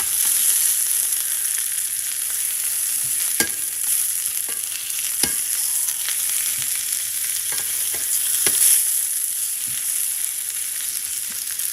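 Steady, loud sizzling of venison frying in a pan for breakfast, a continuous crackling hiss with occasional scrapes and taps of a utensil turning the meat.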